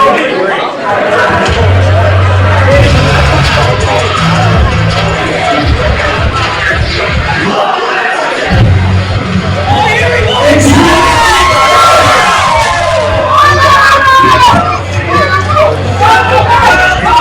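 A wrestling crowd in Quakertown cheers and chatters loudly throughout, a dense roar of voices and shouts with a commentator talking over it, dipping briefly then swelling again.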